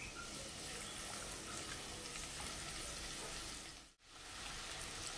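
Garlic sizzles in two spoons of hot oil in a pan, a steady close crackling hiss that fills the whole stretch and briefly cuts out near the end, with no talk.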